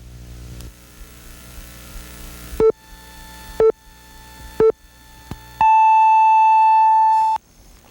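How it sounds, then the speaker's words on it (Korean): Three short, evenly spaced electronic beeps followed by a longer sustained tone mark the top of the hour at 8 o'clock on Korean radio, loud and clean with no talk over them. "귀뚜라미 보일러가 8시를 알려드립니다"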